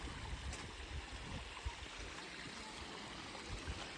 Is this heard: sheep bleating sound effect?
no